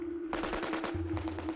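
A rapid burst of gunfire rattles out close by, a quick string of sharp shots followed by a second, slightly fainter volley, with shots ricocheting during a hostage rescue raid on a hijacked airliner.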